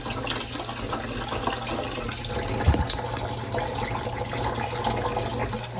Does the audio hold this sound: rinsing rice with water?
yes